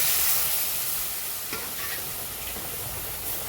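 Milk poured into a pan of semolina already fried until reddish makes a steady, close hiss and sizzle that rises at first, then settles into a continuous bubbling fry with faint stirring.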